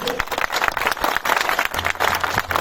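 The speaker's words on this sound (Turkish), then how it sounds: "Bunun için Sayın Başkanımı şöyle bir alkışlamanızı istiyorum" Applause from a crowd at a village association's event in Uzunöz, clapping for the association president; dense, fairly loud clapping with a low hum entering near the end.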